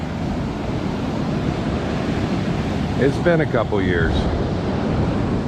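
Atlantic surf rolls onto a Florida beach in a continuous loud wash with wind noise, while someone speaks briefly midway.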